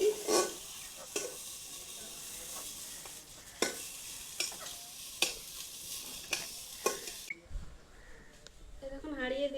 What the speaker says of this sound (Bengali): ফুলকপিটা হালকা করে ভাজবো, অত ভাজবো না।